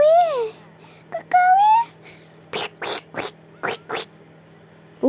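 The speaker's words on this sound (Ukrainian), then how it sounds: "Ой, які котики." Cats meow close by in a few drawn-out cries, followed by a run of short, breathy hissing bursts.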